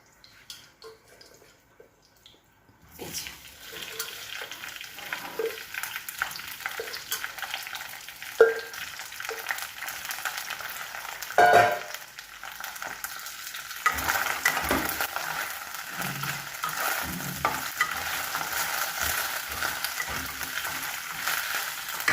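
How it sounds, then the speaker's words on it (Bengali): Cut okra fries in hot oil with nigella seeds. After a few seconds of near silence a steady sizzle starts, broken by occasional stirring scrapes, and it grows fuller and louder toward the end. No one speaks. "গরম হয়ে যাক, গন্ধ উঠলে তখন ধুয়ে রাখা কেটে রাখা ভেন্ডি দেবো।"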